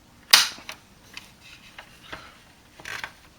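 A spring-loaded toy missile flicks off the launcher of a 1990 G.I. Joe Avalanche snow tank with one sharp plastic snap, followed by a few softer clicks and light handling taps.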